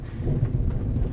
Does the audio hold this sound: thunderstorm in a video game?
yes